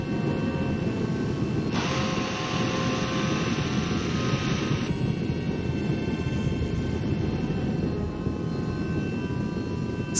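Spacecraft thrusters fire at maximum thrust in an animated series set on Venus, a loud, continuous broadband roar running steadily throughout with a brighter hissing layer that swells for a few seconds early on.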